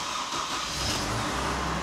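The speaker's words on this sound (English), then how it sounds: "We're going to have to turn the truck on here." A 2006 Chevy Colorado pickup engine turns over and runs, giving a loud, steady, broadband rumble close by with no pauses.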